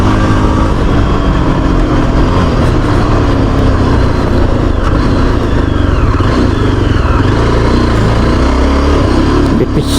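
A Yezdi Adventure motorcycle rides across an off-road patch, its engine note loud and continuous with a steady rumble and broadband road and wind noise throughout, and no talk.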